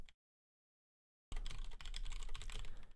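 Rapid clicking on a computer keyboard starts after a short silence and runs steadily to the end, close and fairly quiet, with uneven bursts of keystrokes.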